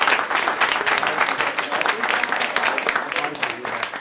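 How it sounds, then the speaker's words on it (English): A round of applause for a senator at a tribute event, a crisp rapid patter of many hands clapping throughout, with some voices underneath. "If we can give him a round of applause."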